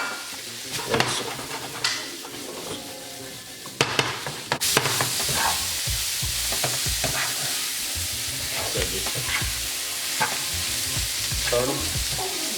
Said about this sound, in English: Sausage. I'm gonna saute that.